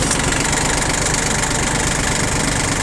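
A small Japanese two-wheel-drive diesel mini tractor with a rotary tiller runs steadily nearby, its loud, even engine rumble and knocking continuous throughout with no pauses.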